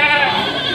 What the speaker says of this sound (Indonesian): sini kambing-kambing yang baru datang dari petani desa